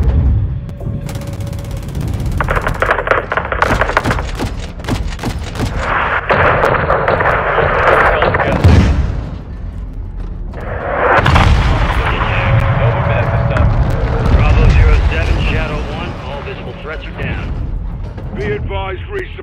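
Dense modern-warfare battle from Call of Duty: Modern Warfare II, with loud sustained gunfire, rapid bursts and heavy explosive booms filling nearly twenty seconds, while shouted voices and radio chatter cut in over the din.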